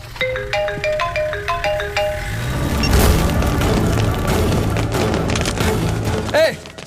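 A bright electronic mobile phone ringtone plays a quick repeating melody at the start, then gives way to a dense wash of clattering noise with a short chirp near the end.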